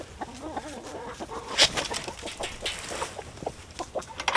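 Several chickens cluck and murmur close by, with short sharp squawks scattered through an irregular, busy chatter.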